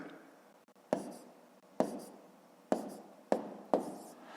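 Pen or chalk strokes writing out a column multiplication for a fifth-grade math exercise: five distinct, sharp taps at irregular intervals, each followed by a short scratching trail, close and clear with no talking.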